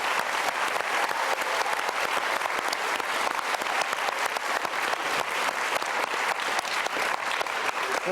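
A dense, steady round of applause from an audience at a children's reading program, honoring the kids who took part, continuing loud and unbroken without voices on top.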